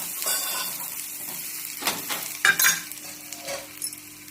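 Onion and stuffed brinjal fry in a pan with a constant close sizzle, while a spoon stirs and scrapes in several sharper bursts toward the end.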